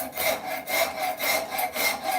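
A rasp shaping wood on an axe handle in steady, even back-and-forth strokes, about four to five rhythmic scrapes close up, with no talk.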